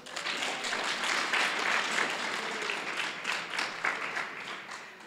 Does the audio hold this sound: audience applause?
yes